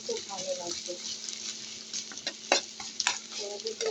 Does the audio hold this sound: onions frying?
yes